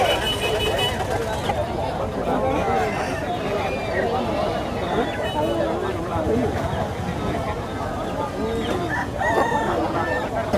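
Country chickens cluck and a rooster crows repeatedly at a Monday village market in Bhogapuram, Vizianagaram district, with people talking and haggling close by and crowd babble underneath.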